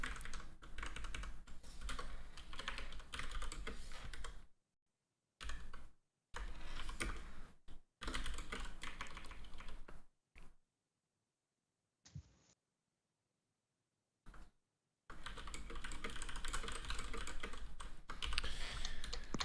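Bursts of typing on a computer keyboard while editing notes, fast clattering keystrokes in several runs separated by silent pauses, close and steady with no talking.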